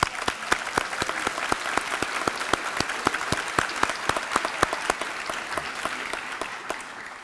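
An audience at a DC Fire and EMS cadet class graduation ceremony breaks into sustained applause, with dense, even clapping that holds steady throughout and fades slightly at the end.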